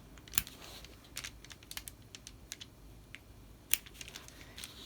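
Scissors snipping into fabric seam allowances while marking a garment's shoulder and sleeve, heard as scattered sharp, close, quiet clicks and snips in irregular rhythm with no talk.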